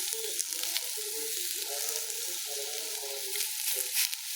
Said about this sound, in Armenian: Տեսեք ինչ լավ է խորովում, տապակվում է